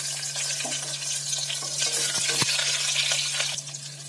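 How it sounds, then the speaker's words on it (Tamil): Curry leaves and two green chillies sautéing in a pan for a Tamil tomato kadayal, a steady close sizzle and frying hiss with occasional stirring clicks against the pan, no voices. "அதோட கருவேப்பிலை கொஞ்சோண்டு, 2 பச்சை மிளகாய், இதை நல்லா வதக்கிக்கணும்"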